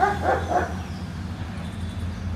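Several dogs bark and yip at another dog out on a street during a walk, a quick cluster of loud, close barks at the start before the sound settles into quieter outdoor background.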